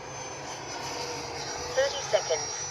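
A Freewing F/A-18C 90mm electric ducted-fan RC jet whines steadily at an airfield as it takes off and flies, a continuous moderately loud hiss-like roar with a few short louder tones near the end.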